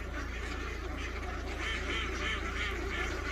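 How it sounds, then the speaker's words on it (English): Huge flock of ducks on the water, a dense continuous wash of quacking and honking calls blending into a steady loud chorus with no clear gaps. "have you ever seen so many ducks?"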